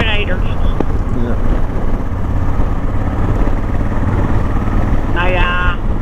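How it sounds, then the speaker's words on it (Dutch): Motorcycles pass along a road in Germany, a steady engine drone heard from nearby with faint talk over it. "Kijk, nog meer motorrijders."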